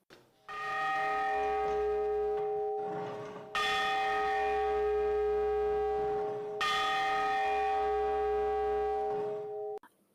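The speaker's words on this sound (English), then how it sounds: "It's one of those old-style bells someone would have to ring manually." An old-style hand-rung school bell tolls loudly and clearly, three long ringing strokes each sustaining for a few seconds before the next, with no talk over it.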